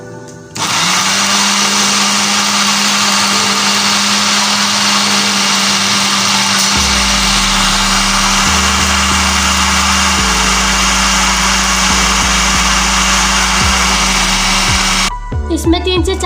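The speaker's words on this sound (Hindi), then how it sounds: "अब इसे ब्लेंड करेंगे।" A kitchen blender whirs loudly and steadily, blending a qeema mixture with milk, its motor droning close for about fifteen seconds before cutting off abruptly.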